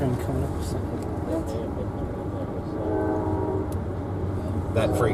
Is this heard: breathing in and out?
no